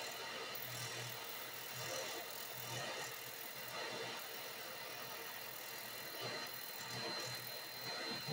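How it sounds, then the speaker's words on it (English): A vacuum cleaner running as a dust collector beside a sanding wheel shaping clarinet reeds, a steady, even whir that holds throughout with faint rhythmic rubbing underneath. "Turn off the vacuum cleaner."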